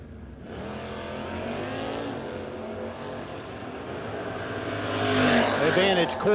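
A Mustang and a Dodge Demon launch off the starting line at a no-box drag race shootout, engines roaring loudly and building in pitch as they pull away, with an announcer talking over the sustained blare.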